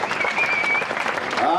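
A crowd at the start of a mountain marathon claps steadily for the women runners, a dense, even wash of applause with an announcer's voice over it.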